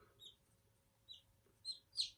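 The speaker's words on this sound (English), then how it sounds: "She's a black, silky bantam hen. She's got some lungs. She likes to talk already" Black silkie bantam chick calling in a quiet room, a few short high-pitched peeps spaced apart, the last one loudest, over faint low background hum.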